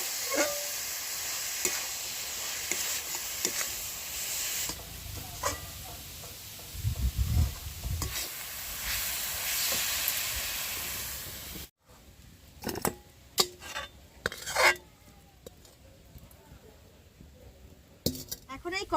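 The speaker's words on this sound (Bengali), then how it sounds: "এবার খুব সুন্দরভাবে এগুলোকে মিশিয়ে আমি একটা পুর তৈরি করে নেব" A spoon scraping and stirring a jaggery filling for pitha in a pan, with repeated close clinks and scrapes and a soft sizzle, followed by a quieter stretch of sharp utensil knocks.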